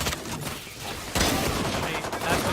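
Quick pistol shots in the shooter Valorant, close-range exchanges in a collegiate match, a sharp burst of rapid cracks clustered together under ongoing game noise and commentary.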